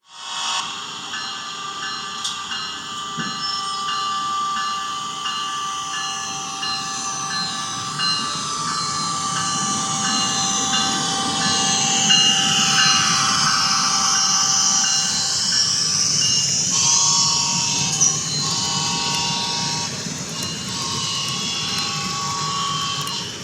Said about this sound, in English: we see SEPTA train 4438 departing for the neighboring town of Penn Heights